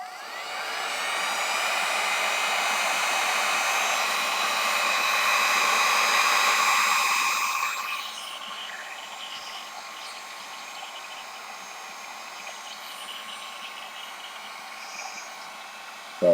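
A handheld heat tool blows steadily while drying ink on a sheet of paper, a loud continuous whirring roar that eases to a softer hum about halfway through.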